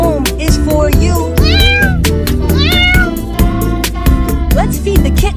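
Several loud, sliding meows from cartoon kittens ring out over upbeat rhythmic music with a steady beat, the cries coming in short bursts close up.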